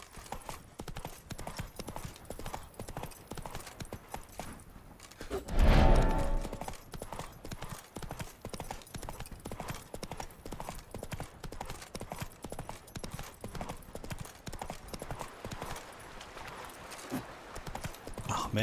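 Roach, a horse from the PC game The Witcher 3: Blood and Wine expansion, gallops in a fast, steady, continuous clip-clop of hooves with a brief louder thud midway, heard without talk.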